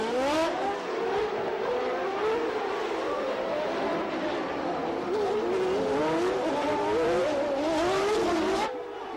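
Formula 1 race cars of 1989 racing around the Monaco street circuit, high engines wailing and shifting pitch close by, loud and continuous before cutting off near the end.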